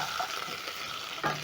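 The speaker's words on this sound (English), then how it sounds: "So I'm going to stir." Potato wedges and pork stirred in a pan over a soft, steady frying sizzle, with a spatula scrape and a brief louder clatter near the end, close and fairly quiet, no talk.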